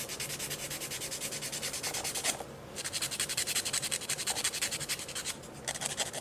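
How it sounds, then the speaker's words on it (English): Nail file rasping back and forth across press-on nails to shape and taper them, a close, steady scratchy rhythm of quick strokes with one brief pause partway through. "now I'm just going to shape the nails a little bit"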